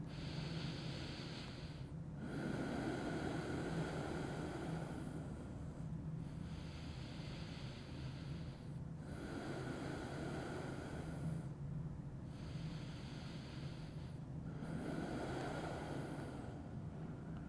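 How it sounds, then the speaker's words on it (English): Slow, deep yoga breaths during a hip-release practice, each long inhale and exhale drawn audibly through the nose, repeating about four times with short pauses, close and steady over a constant low hum, no talking. "take 3 more breaths here"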